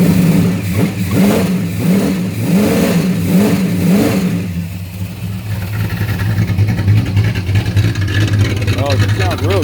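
A carbureted car engine revs in a series of rising and falling bursts, then settles into a steady, loud idle with rhythmic pulsing.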